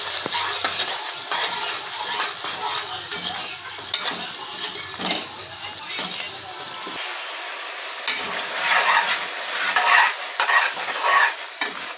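A spoon scrapes and stirs chicken curry with ground tomato, onion and salt in a pan. The steady clinking and scraping continues over a low sizzle.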